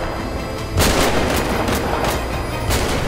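Gunfire in GTA 5 roleplay, several loud booming shots cracking over a dense, noisy game soundscape in a short burst.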